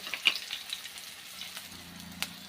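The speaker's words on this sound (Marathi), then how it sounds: "मस्तपैकी तेलावरती आपण थोड्याशा परतून घेऊया मिरची ही उडते तेलामध्ये" Green chilies fry in hot oil with a soft, steady sizzle and a few faint pops and crackles, fairly quiet and close, without any talking.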